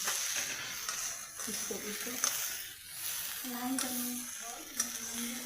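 Khichuri sizzles and fries in a pan while it is stirred, making a steady hiss with intermittent scraping strokes close by. A voice talks intermittently over the cooking.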